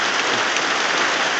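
Heavy rain falls steadily outdoors, a dense, even hiss of drops on surfaces with no pauses and no voices.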